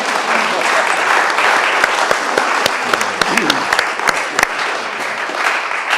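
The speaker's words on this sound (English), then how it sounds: "You can clap now." A city commission meeting room breaks into steady applause after a unanimous vote. Many hands clap fairly close and sharp for several seconds, with voices murmuring underneath.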